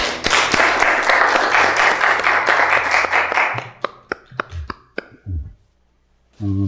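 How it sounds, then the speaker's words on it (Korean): Brief audience applause breaks out at an event: dense clapping for about three seconds, then a scattering of separate claps trailing off before a short pause and a burst of noise at the end. "박수."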